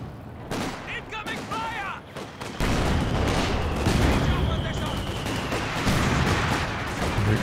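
Gunfire exchanged in the World War II strategy game Company of Heroes 2, with tank and anti-tank gun battle noise, dense rattling shots and booms building into a loud continuous barrage while a voice talks underneath.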